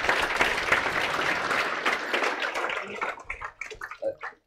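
An audience gives a student receiving a gold medal at a chartered accountancy class event dense, loud clapping that thins into scattered individual claps near the end.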